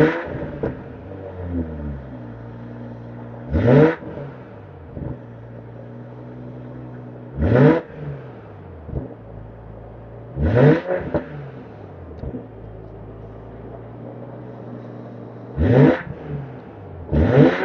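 A BMW Z4 G29 with a modified exhaust sits idling with a low, steady burble, broken by four sharp throttle blips that rise quickly in pitch and fall back, close and loud.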